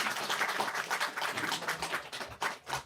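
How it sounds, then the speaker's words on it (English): Audience applause for the participants at a school division spelling bee: dense, steady clapping from a crowd that carries on for about three seconds at a moderate level. "if we can give our participants another round of applause"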